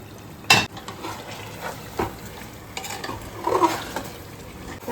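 Mutton for biryani stirred and frying in a pot, a close soft sizzle under scraping strokes, with a sharp metallic clink near the start and a few more spoon scrapes later, no voices.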